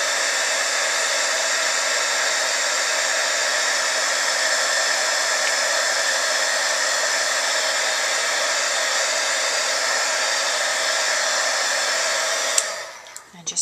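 Heat embossing tool blowing hot air steadily onto a Halloween card to melt embossing powder to a shiny black, a constant loud whooshing drone that stops abruptly near the end with a few small handling knocks.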